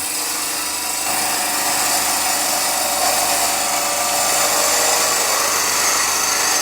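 A wood lathe spins steadily while a parting tool cuts an oversized tenon on a salt or pepper mill blank, giving a continuous loud, close hiss and whir with no pauses.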